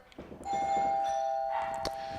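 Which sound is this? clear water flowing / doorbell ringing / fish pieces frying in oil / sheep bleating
doorbell ringing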